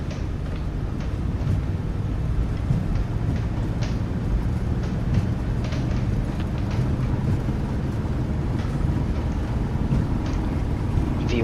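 An airliner's jet engines at takeoff thrust in a flight simulator, on a foggy morning departure, make a steady, loud, broadband roar that holds level throughout with no speech over it.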